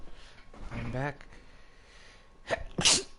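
A character sneezing in the video game Horizon Forbidden West, a brief voiced sound early on followed later by a sharp, close sneeze with a quick intake and burst, over quiet ambience.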